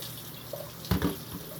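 Water with floating melon seeds poured from a container, a short splashing gurgle over a steady background hiss, close and moderately loud, with no talking.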